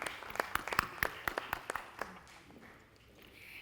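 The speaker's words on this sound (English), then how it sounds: "Big round of applause for Amisha." Scattered applause from a conference audience, a handful of sharp individual claps in an uneven rhythm that thins out and fades to quiet room tone.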